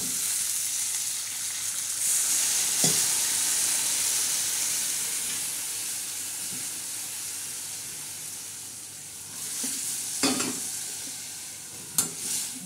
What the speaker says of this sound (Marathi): तर चांगले आपण अशी फ्राय करणार आहोत वांगे।